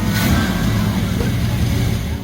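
A 1958 Chevy Bel Air engine revving hard to blow out its exhaust, a loud, continuous close roar that holds steady throughout.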